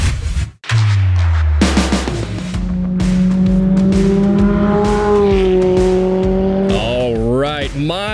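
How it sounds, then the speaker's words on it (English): A race car engine at Pikes Peak holds a steady drone, then revs up and down in sweeping bursts near the end, loud and close and mixed with voices and broadcast sound. "My next guest had a hand in making those car sounds on Pikes Peak, and his name is Amir Bentatou"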